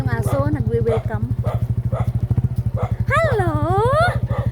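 A dog greets arriving visitors at a rural home in Tapaz with yips and whining barks, close by, over a steady low engine rumble and people talking.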